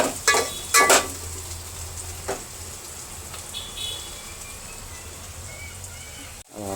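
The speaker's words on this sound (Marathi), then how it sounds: "कांदा असा पूर्ण लाल बुंद होईपर्यंत फ्राय करत राहायचं आहे." Chopped onion frying in a pan for a mutton curry, a steady soft sizzle throughout with a few louder stirring clatters near the start.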